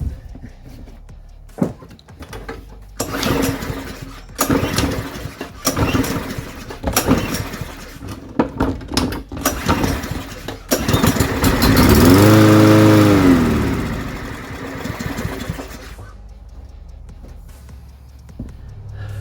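A cheap old lawn mower engine on fresh gas is cranked with several quick pulls, then catches and runs loudly for a few seconds, sputters down and restarts briefly before cutting out.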